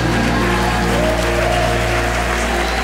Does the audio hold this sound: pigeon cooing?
no